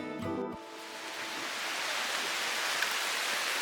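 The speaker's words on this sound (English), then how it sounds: "Here comes the rain." Steady rain falls outdoors in the mountains, a dense, even hiss that continues unbroken, with a brief muffled knock right at the start.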